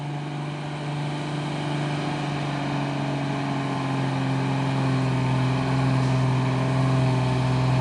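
A steady, loud engine drone with strong low hum and a gradually rising pitch, like a heavy orange bus straining uphill while overtaking, continuous and close with no voices.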